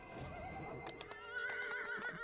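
A horse in the video game DDO (Dungeons & Dragons Online) gives a single clear, drawn-out whinny that rises and trembles, with a faint clop beneath. No one speaks.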